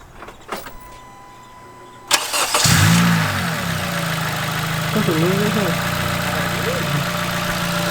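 A Honda Civic with a newly installed air intake cranks and fires up after a short burst of clicks, then settles into a steady mid-pitched idle close by, with a rising rev partway through.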